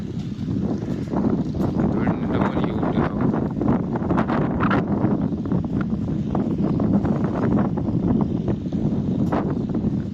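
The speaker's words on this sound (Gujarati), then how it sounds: "વાવાઝોડો જેવો પવન છે" Storm-like strong wind in Cyprus, a steady, loud gusting roar buffeting the microphone throughout, with muffled voices faintly underneath.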